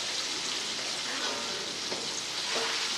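Chicken charsi karahi sizzles and fries in the pan while a spoon stirs it, a steady close crackling hiss with faint scraping through it.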